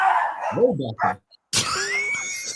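A dog barks and yips a few times, fairly close, with people talking over and around it.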